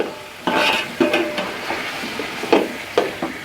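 Fried, boiled beef goes into a pan of tomatoes for yakhni pulao and is stirred, giving a sizzle with several scraping strokes and soft clunks of a spoon against the pan, close up.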